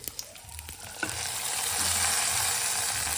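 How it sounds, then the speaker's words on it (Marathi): A few clinks and taps, then a hot ghee and dry-fruit tempering poured into kheer bursts into a strong, steady sizzle that builds and holds, close and loud. "आपली फोडणी तयार तर आपण डायरेक्ट खीरमध्ये टाकायचं आहे"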